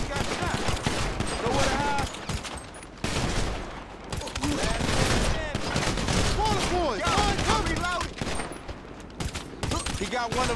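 Rapid gunfire in a GTA 5 Online survival match, overlapping bursts of automatic shots and single cracks crowding the whole stretch, loud and continuous with little pause.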